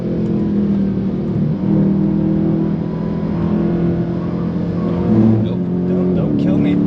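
A Dodge Charger Scat Pack drifting with little rear grip on the Nürburgring, its engine droning loud and close with a steady throttle roar that swells briefly near the end.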